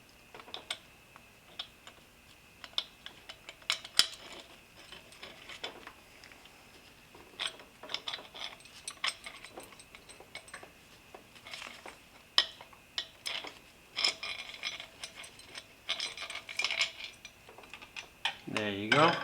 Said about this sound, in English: Here's the wrist pin still stuck in the piston. And we're going to pull this out on the other side here.